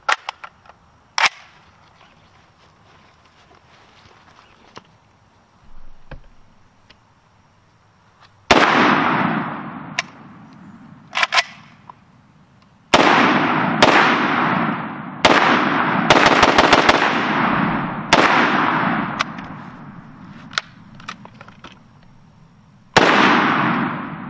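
An FN SCAR 17S rifle firing 7.62x51 NATO (.308) rounds outdoors lets off a series of loud, sharp shots, some spaced and some in quick pairs, each with a ringing decay, no talk.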